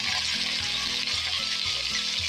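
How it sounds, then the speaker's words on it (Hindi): Onion fries in 150 grams of ghee in a kadai with a steady, dense sizzle, while a low tonal hum runs underneath. "अब घी में हम प्याज डालेंगे।"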